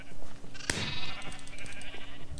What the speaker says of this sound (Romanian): Bă, oaie.